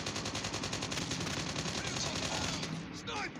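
Rapid automatic gunfire in a Call of Duty match, a dense run of repeated shots at steady rhythm, fairly loud, with faint game noise and a brief trailing sound near the end.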